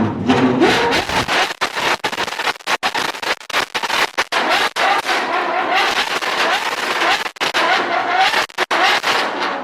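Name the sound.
naturally aspirated 6.5 liter V12 Ferrari engine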